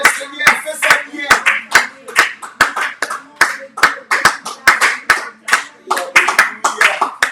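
A church congregation claps in steady, loud rhythmic beats during worship, roughly two to three claps per second, with voices singing or calling out beneath the hand claps.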